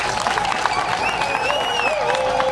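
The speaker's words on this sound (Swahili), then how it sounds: "pigeni makofi kwa wingi" A crowd claps steadily and densely at a rural water supply launch gathering in Mgongoro, with a few faint voices and whistles mixed into the continuous applause.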